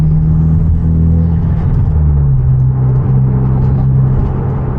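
A Hyundai Genesis Coupe with loud exhaust cruising at speed, a steady deep engine drone and road rumble filling the cabin, loud and constant with a slight drop in pitch partway through.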